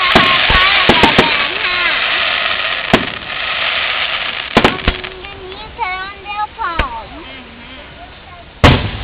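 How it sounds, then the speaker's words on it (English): Backyard fireworks going off outdoors near trees, sharp cracks and booms scattered throughout with whistling fizzes and crackle between them, while people talk and exclaim over the bursts. "You have a fireworks ready, Mary?"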